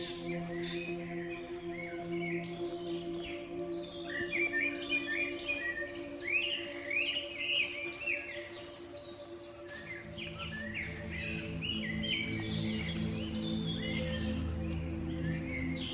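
Birds chirp and sing in a jungle, with scattered bright calls over a soft, steady tonal drone and no voices.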